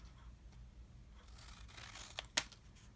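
Scissors trim off excess material while a K-Cup holder shaped like an old mailbox is assembled, giving a brief rustle and then one sharp snip near the end over a low background hum.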